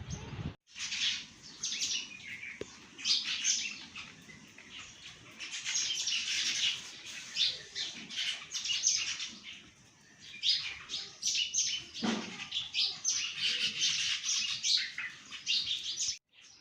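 Sparrows gathering to feed in the morning chirp constantly in a busy, overlapping chorus, near and fairly loud with a few wing flutters, and no talk.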